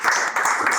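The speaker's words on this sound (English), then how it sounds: "Let's clap for MFA." An audience of children at a leadership session claps briefly, a short burst of dense hand clapping.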